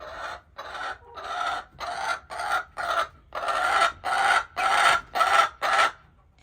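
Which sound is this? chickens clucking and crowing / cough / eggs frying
chickens clucking and crowing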